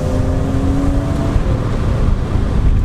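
A high-mileage BMW M3 with an SMG gearbox driving on an open road, its engine a steady, loud drone with a brief tonal whine early and continuous road and wind roar throughout.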